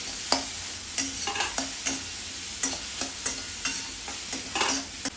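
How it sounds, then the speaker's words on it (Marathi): Chopped vegetables for a paneer momo filling sauté in a little oil in a kadhai, with a steady sizzle broken by repeated close scraping stir strokes at an uneven rhythm. No one speaks. "कढईमध्ये थोडंसं तेल टाकून 2 मिनिटं चांगलं परतून घेते"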